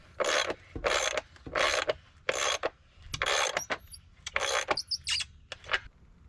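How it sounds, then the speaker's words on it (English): Nuts tightened back onto bolts over washers while reinstalling a ledger board, heard as a series of close, loud ratcheting bursts, each about half a second long, separated by brief pauses. "Finally, I tighten up all the nuts."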